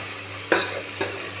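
Biryani masala is stirred into chicken tikka biryani in a pot, two quick scraping strokes over a steady low sizzle and hum.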